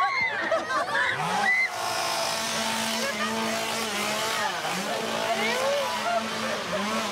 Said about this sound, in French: Il y a un gars qui est avec une tronçonneuse